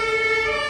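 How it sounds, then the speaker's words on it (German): Ambulance siren on a Berlin street, a steady loud electronic wail with stacked bright harmonic tones held throughout the short moment, no voices over it. "Krankenwagen."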